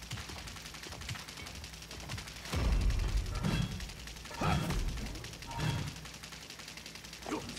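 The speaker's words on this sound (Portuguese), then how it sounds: "Nossa, que barulho chato, cara, esse bug do tiro." Glitchy looping gunfire in the Paladins video game, a steady mechanical rattling drone with louder surges throughout, with someone speaking over it at times.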